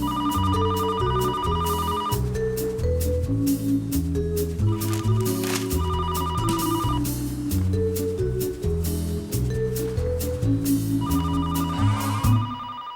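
A telephone rings in repeated bursts of a bright electronic trill over busy music, loud and close, with no talking.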